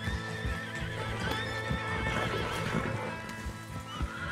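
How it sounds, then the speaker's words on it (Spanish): Horse hooves clip-clop steadily in Red Dead Redemption 2 as a horse is mounted and ridden, with a whinnying neigh rising over the hoofbeats, up close and loud against game ambience. "Monta en un caballo."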